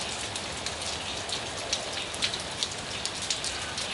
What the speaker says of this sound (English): cleansing rains of Sedona